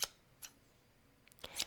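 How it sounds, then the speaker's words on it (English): A pair of hairdressing scissors snips hair close up in a quiet salon, with a few crisp separate cuts and a quick cluster near the end, soft and intimate with no talk. "different parts of the hair require different scissors."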